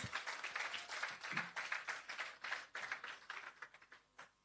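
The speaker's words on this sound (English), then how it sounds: "Give her a round of applause" A round of applause at a roof-handover ceremony for a shelter recovery programme, as a grant recipient is called up to the stage: steady clapping from a seated audience, fairly faint and fading toward the end.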